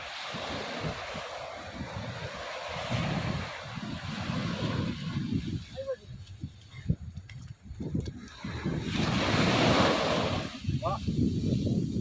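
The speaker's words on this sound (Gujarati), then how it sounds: "જોઈ લે મિત્રો દરિયો મજા આવી ગયો" Steady rush of wind and surf with broadband noise, waves swelling louder toward the end, while people talk over it nearby.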